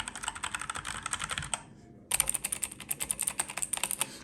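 Typing on mechanical gaming keyboards, an Acer Predator Aethon 500 and an HP Pavilion Gaming Keyboard 800 with blue and red switches: rapid close clicky keystrokes in quick bursts, a brief pause midway, then sharper, brighter clacking.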